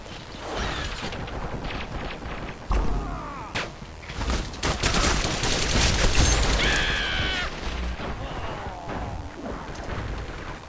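Gunfire in the video game Gotham City Impostors, played as team deathmatch on the Amusement Mile map, crackles in loud bursts and rapid volleys with mechanical reloading clacks, a dense and continuous firefight.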